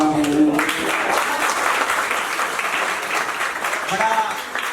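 An audience applauds at a college poetry recital in Bibinagar, clapping dense and sustained throughout, with a brief voice at the start and another near the end.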